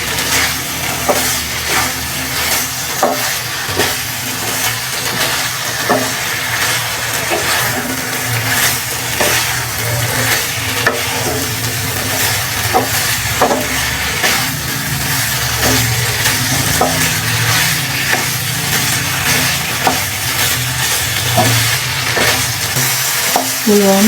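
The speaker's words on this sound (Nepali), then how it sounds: "यसलाई पनि म 5 मिनट जति मजाले भुट्छु। मसलामा पकाउँछु एकछिन।" Potato pieces frying in masala in a pan, a continuous loud sizzle with repeated scraping stirs of a spatula throughout, close up and with no talking.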